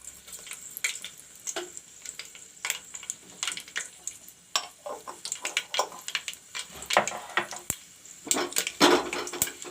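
Dry red chilies and mustard seeds spit and crackle in hot mustard oil, a steady close sizzle broken by sharp pops and clinks of a metal pan that grow busier toward the end.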